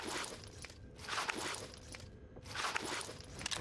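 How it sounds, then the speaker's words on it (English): Running footsteps in Call of Duty Warzone on Rebirth Island, rapid soft steps in rhythmic bursts that swell and fade, moderately close under a noisy game ambience, no talk. "I heard footsteps behind you."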